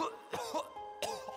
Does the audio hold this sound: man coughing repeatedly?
yes